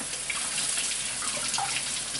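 Asparagus rinsed under a running kitchen tap, a steady close rush of water splashing in a sink for a couple of seconds, with no voices.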